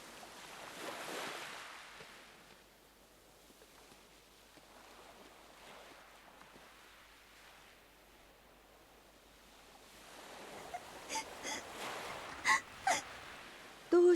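Cartoon sea waves washing onto a shore, a soft steady surf wash that swells and fades at moderate distance, with a few sharper knocks near the end.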